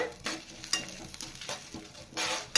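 Byadagi chillies and small green chillies fry in oil for kalyani rasam, giving a soft sizzle broken by several scraping stirs of a spoon across the pan, close and fairly quiet.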